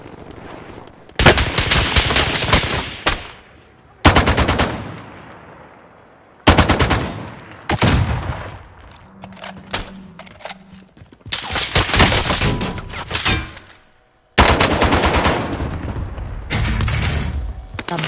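Video-game gunfire in a military shooter: loud, close bursts of rapid automatic fire in long runs, broken by short pauses and a few single shots.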